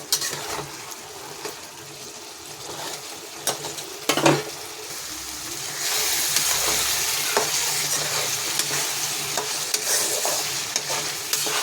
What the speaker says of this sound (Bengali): অনেকক্ষণ কষাতে হবে তরকারিটা।